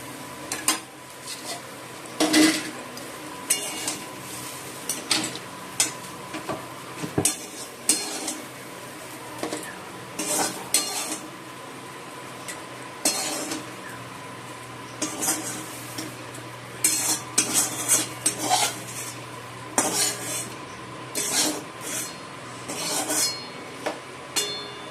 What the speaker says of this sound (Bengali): আলু ভাজা নামিয়ে তারপর আলুগুলো ভাজবো।